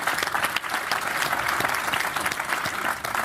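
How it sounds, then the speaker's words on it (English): An audience gives a round of applause at a talk or conference, a broad, even wash of many hands clapping that holds steady, fairly soft and without speech. "So I just want us all to give them a round of applause."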